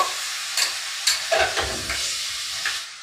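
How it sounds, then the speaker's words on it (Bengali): Drained chicken pieces being stirred into butter in a cooking pan, with a steady sizzle and hiss and a few scraping strokes of the spoon, close and moderately loud. "এবার আমি এর মধ্যে দিয়ে দিচ্ছি জল ঝরিয়ে নেওয়া চিকেন। এটাকে একটু মিশিয়ে নেব।"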